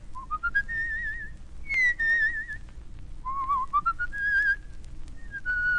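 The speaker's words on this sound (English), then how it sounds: "Oh, I whistle, too." A person whistles a wavering, warbling tune in several phrases, with trills and gliding notes over a faint low background hum.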